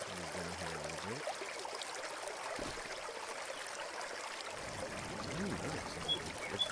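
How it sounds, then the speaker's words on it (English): Waterfall on a Farming Simulator 25 map, a soft continuous rush of falling water, faint and steady, with someone talking over it. "Got a beautiful waterfall with sounds that work really nicely."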